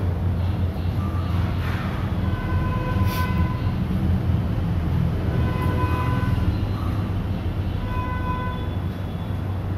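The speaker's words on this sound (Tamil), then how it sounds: "இங்கே ஒரு ட்ரெயின் வந்து ஓரமாக நின்றுட்டு இருக்கு" A train drawing up and halting beside a small station, its steady rumbling rolling noise continuous and fairly loud throughout, with faint tonal squeals or horn-like notes threaded over it and no talking.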